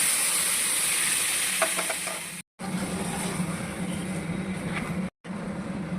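Broken-wheat dalia in a pan with hot water just poured in, stirred now and then: a steady close hiss and simmer with a few soft scraping strokes, broken by two brief silent gaps.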